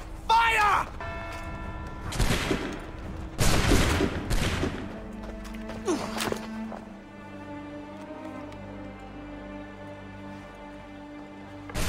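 A musket volley erupts in the video game Assassin's Creed III as a few loud, crackling bursts of gunfire close together, then fades into a low, steady ambient drone with music-like tones.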